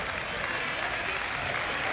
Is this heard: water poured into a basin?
no